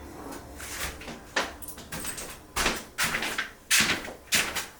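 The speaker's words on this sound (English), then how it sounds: "Now I'm gonna hang the door back up." A heavy solid oak prehung interior door is handled and knocked as it is hung, giving a series of sharp wooden thuds and bumps in an irregular rhythm, close and fairly loud.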